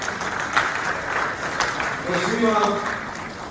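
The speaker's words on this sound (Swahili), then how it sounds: "Makofi ya msingi." Applause for President Samia Suluhu Hassan at a five-star hotel launch in Arusha, a steady crowd clapping that runs the whole time beneath an amplified voice speaking over it.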